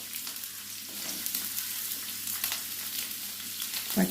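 Onion, green chilli and tomato sautéing together in about three spoons of hot oil in a pan, a steady close sizzle and crackle with soft stirring scrapes throughout, no voices.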